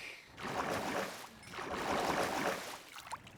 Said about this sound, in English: I swear, water is like one of the loudest things in